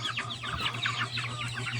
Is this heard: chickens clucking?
yes